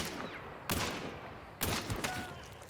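Gunshots in the video game Hunt: Showdown during a headshot kill, two sharp loud reports about a second apart, each with a rolling echo tail over low ambient game noise.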